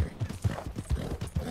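Horse hooves clip-clop at a steady walking rhythm in the Red Dead Redemption 2 video game, a continuous run of soft, muffled thuds with no talk over them.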